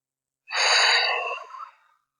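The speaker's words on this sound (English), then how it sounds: "Take a few deep breaths. Really breathe into the stretch." A single deep breath, a breathy inhale-exhale lasting about a second and a half during a glute and hip stretch, close and clear with no talking.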